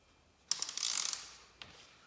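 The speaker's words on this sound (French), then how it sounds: "Donc une douille de 14 pour la vis de vidange," A ratchet with a 14 mm socket clicks in a quick close burst as it loosens the oil drain bolt on a Suzuki SV650, followed by a single later click.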